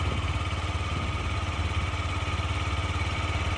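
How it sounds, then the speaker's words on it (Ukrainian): A fuel-injected Yamaha Gear scooter engine runs steadily at idle, a close, continuous low mechanical drone with constant vibration throughout and no voices. "По роботі двигуна."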